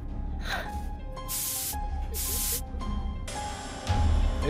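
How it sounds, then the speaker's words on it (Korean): Spray hisses out in two long, loud bursts with short pauses between them, with other game or video sounds underneath. "스프레이 소리가 엄청 들리네."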